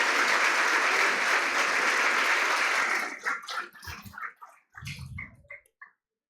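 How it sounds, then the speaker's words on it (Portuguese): A church congregation gives a round of applause, with loud sustained clapping for about three seconds that then breaks into scattered, fading claps. "Dá uma salva de palmas."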